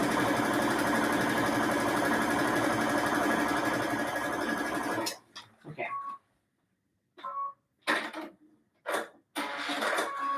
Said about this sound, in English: Let's get some sewing done here.